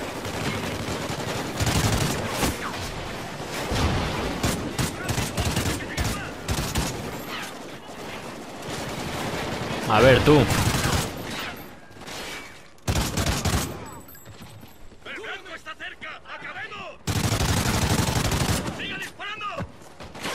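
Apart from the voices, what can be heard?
gunfire in video game Call of Duty Ghosts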